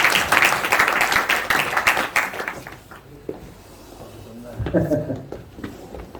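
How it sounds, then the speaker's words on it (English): Audience clapping at a cricket association launch event, dense applause for a couple of seconds that thins into scattered claps and fades, with a voice briefly heard toward the end. "Big round of applause, please"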